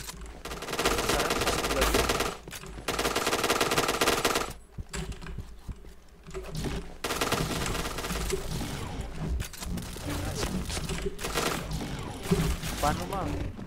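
Rapid gunfire in a video game shooter, with dense automatic bursts that fill most of the stretch, pausing briefly twice, heard loud alongside game effects and players talking.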